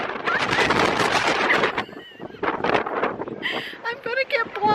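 Strong wind buffeting the microphone on the Mount Washington summit, loud gusty roaring that rises and falls, with a voice mixed in and breaking through.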